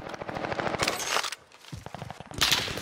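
Rapid automatic gunfire rattles in bursts during a Warzone match, with several volleys separated by brief gaps, close and loud.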